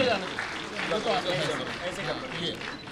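Audience applause at the 11th Atal Samman award ceremony at Bharat Mandapam, honouring Deepa Malik, a steady dense clatter of clapping from a large crowd that holds evenly throughout.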